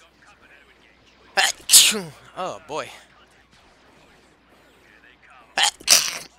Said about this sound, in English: I gotta sneeze real bad